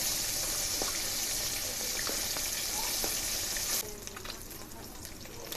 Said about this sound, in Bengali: মাছগুলো এক পিঠ ভাজা হয়ে গেছে, এবার উল্টে পাল্টে আর এক পিঠ ভালো করে ভেজে নেব